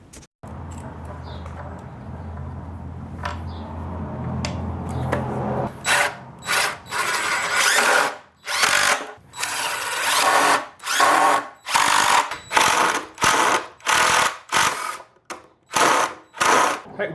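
A power drill bores pocket holes in boards for a patio table with built-in ice boxes, a few quiet taps first, then loud close whirring bursts starting and stopping in a steady rhythm, no voices.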